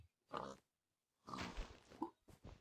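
Short bursts of pig grunts and oinks from a large herd in a video game, separated by brief silences.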